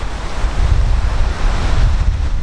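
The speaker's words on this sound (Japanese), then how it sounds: "すごい風。" Strong wind gusts roar into the microphone with a loud, continuous rumble and broadband rush while walking along a cherry-blossom-lined riverside.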